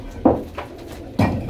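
Teddy golden pigeons coo nearby in two soft, throaty bursts, one near the start and another after a pause, with a fainter murmur between them and no talking.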